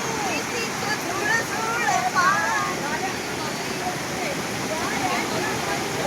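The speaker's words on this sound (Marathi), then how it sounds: "इथून हे पाणी सगळं वाहत येतं वरून" Rainwater running down a rocky slope from above near a hillside villa in monsoon rain, a steady broadband rush like a small waterfall, close and continuous for several seconds, with voices talking faintly over it.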